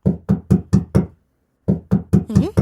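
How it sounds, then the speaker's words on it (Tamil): Knocking on a door in a Tamil cartoon: two bursts of firm, evenly spaced raps, five knocks, a pause, then four more, loud and close, with no talk over them. "எம்பிட்டு நேரமா கதவை தட்டுறேன்"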